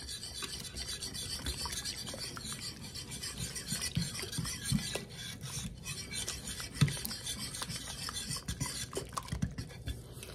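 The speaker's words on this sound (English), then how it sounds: "we are just going to combine that, get that sourdough starter all worked in" Sourdough starter being worked into dough with a Danish dough whisk makes continuous close scraping and rasping strokes in an uneven rhythm, with no talking.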